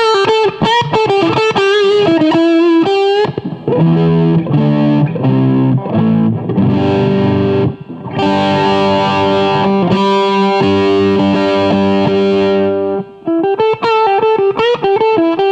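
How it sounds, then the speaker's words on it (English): Electric guitar played through a BJF Pink Purple Fuzz pedal, a fuzz pushing into overdrive-distortion territory, ringing out loud sustained chords and lead notes with thick saturated harmonics, alone and continuous. "The Pink Purple Fuzz is a fuzz, but it's almost in the overdrive distortion class."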